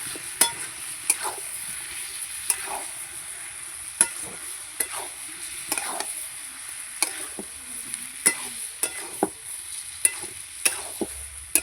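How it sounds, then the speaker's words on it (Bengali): Cabbage cooked with a rohu fish head is stirred in a frying pan after garam masala goes in, a steady sizzle under repeated sharp scraping strokes of a spatula, close and with no talk. "গরম মশলা দিয়ে একটু নেড়ে চেড়ে নেবো"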